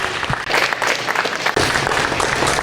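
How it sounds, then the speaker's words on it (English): An audience applauds a West Fargo police officer at a salute event, with steady clapping from a crowd, fairly close and continuous, and a brief dip before it swells again. "So let's give a big hand to Sylvie and say congratulations."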